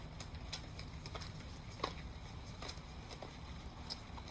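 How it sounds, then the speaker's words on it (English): Soft, irregular patter of rain with scattered faint taps and drips against a steady low background hum. "it sounds like it's raining again, even though it is sunny out"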